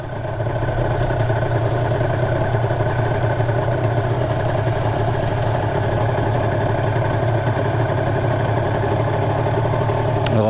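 A Honda NSR250 MC16 two-stroke motorcycle, carburetor freshly adjusted, runs close by with a steady buzzing engine held at constant revs throughout, no clear rise or drop and no talking.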